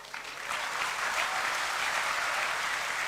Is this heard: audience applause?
yes